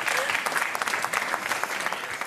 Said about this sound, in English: A round of applause for Sophia.